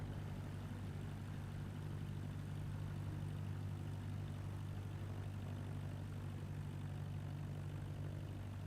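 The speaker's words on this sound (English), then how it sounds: "This is the longest taxi I've ever done on a Cessna." A Cessna light aircraft taxiing in Microsoft Flight Simulator 2024, its propeller engine giving a steady, continuous low drone with a constant hum throughout and no talk.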